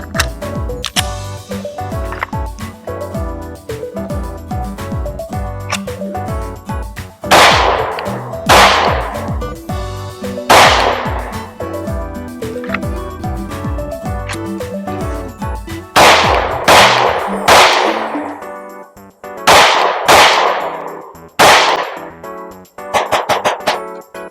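A PSA Dagger Micro pistol fires hollow-point rounds in a rapid string of sharp, loud cracks, some spaced apart and others in quick bursts, with the metallic clack of the action between shots and no talk.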